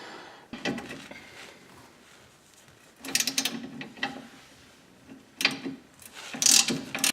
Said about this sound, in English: once you remove all the threads on this bolt, or you've turned it enough to break all the threads loose